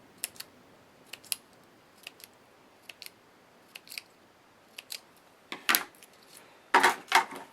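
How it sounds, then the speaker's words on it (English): Scissors snip a strip of small craft pearls into pieces: quiet, crisp cuts near the microphone, spaced about a second apart, growing louder and quicker in a few closing snips. "these are in a strip, so I'm just going to cut them into little pieces"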